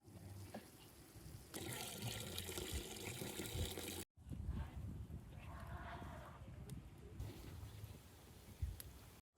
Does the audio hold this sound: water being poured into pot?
yes